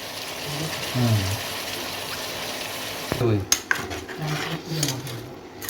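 Water runs over a spice-coated plate while it is scrubbed, with clattering dish and cutlery knocks, a few sharp clinks and a faint voice in the background.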